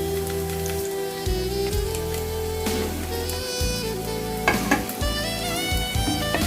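Garlic dropped into a tablespoon of hot cooking oil sizzles and crackles steadily, with stirring and faint scraping near the pan, over a constant hum of other sound.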